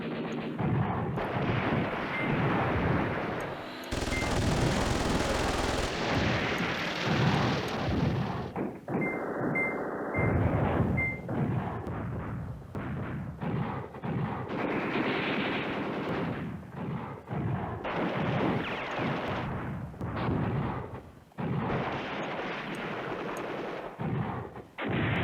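Artillery fire in the Command Ops 2 video game, a continuous rumbling barrage of booms and blasts with dense, loud, overlapping detonations throughout.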